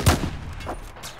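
A few sharp gunshots in a Battlefield 4 campaign mission at a dam, a loud close report followed by two fainter cracks spaced across a second, with no talking.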